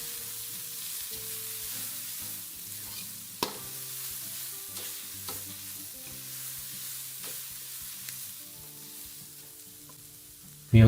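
Carrots and leeks sizzling steadily in a hot pan for a chicken pasta kottu, with a few sharp clinks of stirring and a louder knock at the very end.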